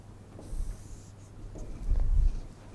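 Faint scratchy strokes of writing on a board during a biology lecture, coming in soft bursts in a quiet room with no talking.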